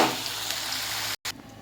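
Salted eggplant slices fry in hot oil, giving a steady close sizzle that cuts off sharply for a moment before resuming more quietly.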